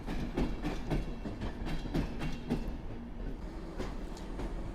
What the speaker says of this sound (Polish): E ED78 Polregio z Poznania do Warszawy Głównej.